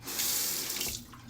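Cold tap water runs steadily into a sink for a rinse after a wet shave, a continuous close hiss that eases off toward the end.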